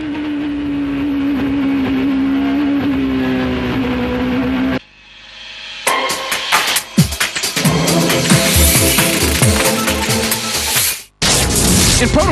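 A Porsche prototype race car at full throttle from onboard during the 2006 American Le Mans Series, loud engine howl holding steady, a sudden drop-off, then a roaring return with rapid gear-change revs.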